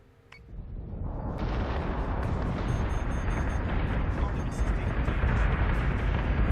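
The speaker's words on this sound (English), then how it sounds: "Okay, base star is firing, taking a few hits there." A base star opens fire in the space combat game Battlestar Galactica Deadlock, a sudden swell into a dense, sustained roar of booming weapon blasts and rumbling explosions that stays loud to the end, with someone talking over it.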